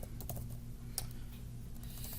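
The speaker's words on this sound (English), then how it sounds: "I'm going to type here something." Keystrokes on a computer keyboard while entering data into a Microsoft Access form, a few quiet clicks over a steady low hum, with one sharper tap near the middle and no voices.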